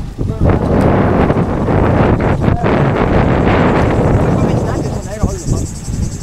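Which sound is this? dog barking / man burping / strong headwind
strong headwind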